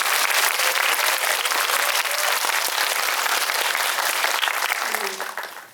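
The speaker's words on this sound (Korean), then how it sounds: "박수 한번." A large audience at a film talk event for a Korean movie applauds loudly and steadily for several seconds, the dense clapping thinning and fading out at the end.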